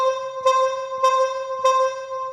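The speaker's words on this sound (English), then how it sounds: "So really this kind of a cathedral-like reverb." A Greaten AP500 Pro EWI, a wind synthesizer, plays sustained bright tones through cathedral-like reverb set to maximum. Three articulated notes repeat at even intervals, each one blooming into a long, washy tail with no talking.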